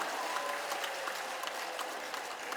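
Brief applause from a retreat audience thanking a priest after a lecture, a dense, even patter of many hands clapping at moderate volume for a couple of seconds.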